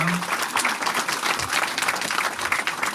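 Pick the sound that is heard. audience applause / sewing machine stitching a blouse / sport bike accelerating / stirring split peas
audience applause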